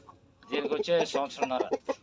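Country chickens clucking in a series of close, fairly loud bursts at a Telugu poultry sale, with people talking over them.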